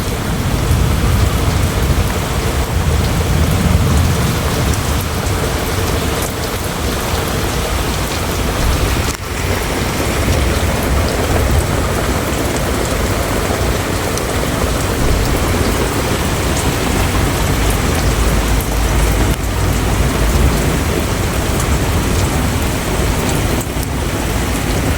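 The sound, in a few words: heavy rain falling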